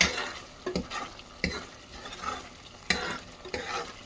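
Mutton curry with coriander powder and fresh coriander is stirred in a pan, a spoon scraping the metal in irregular strokes over a soft continuous sizzle, close and fairly loud, with no voices.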